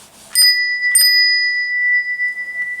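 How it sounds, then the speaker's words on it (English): An old Westinghouse elevator bell rings out with two bright, sustained metallic strikes close together, each tone hanging and slowly decaying across the rest of the clip, loud and alone. "That's the good old Westinghouse bell."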